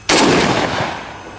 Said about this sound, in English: Так у нас Антон Сергеевич стреляет из автомата Калашникова. Давай, 2 одиночных